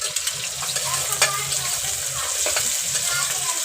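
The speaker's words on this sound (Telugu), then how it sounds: "ఇలా కొంచెం గోల్డ్ కలర్లో అయ్యే వరకు చేసుకోవాలండి, ఫ్రై చేసుకోవాలి" Onions fry in oil, stirred toward golden, at the start of a spicy mutton bone soup. A dense, loud crackling sizzle fills the clip, with occasional soft clinks of a stirring utensil and no voices.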